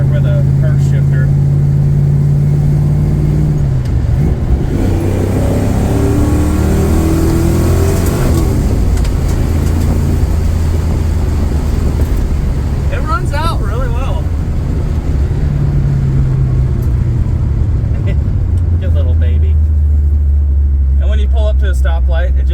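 A Plymouth Barracuda with a big-block 383 V8 swapped in place of a slant six idles loud and close, a deep rumbling engine that revs up and settles back several times.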